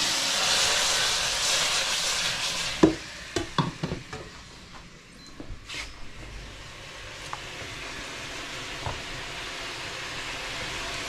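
Food frying in a pan being stirred, a soft sizzle with a quick run of close spoon clicks and scrapes early on, then fainter occasional taps as the hiss settles.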